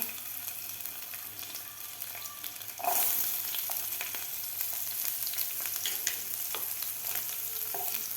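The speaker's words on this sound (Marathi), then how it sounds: "आता आपल्याला हे थोडंसं फ्राय करून घ्यायचं आहे दहा सेकंदासाठी" Thickly cut garlic and ginger hit hot oil in a pan, the sizzle jumping louder at the moment they go in and then holding a steady crackling hiss with occasional stirring scrapes.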